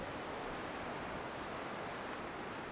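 Waves washing onto a Lake Michigan shore in below-freezing weather, a steady loud rush of surf close by with no pauses, partly blended with wind noise on the microphone.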